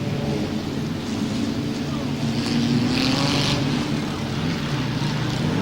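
Super modified race cars lapping a speedway at a 1999 classic speedway nationals meeting, a steady loud engine drone with rising and falling pitch as cars pass, under race commentary.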